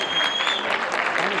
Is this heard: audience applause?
yes